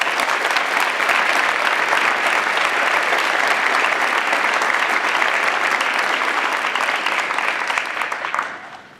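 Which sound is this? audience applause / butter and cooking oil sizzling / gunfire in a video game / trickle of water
audience applause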